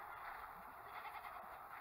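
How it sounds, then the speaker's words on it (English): Goats on a small farm bleat faintly in the distance over a steady broadband background, with no voices over them. "my 22 goats, if you count the babies that we just had born that are a month old"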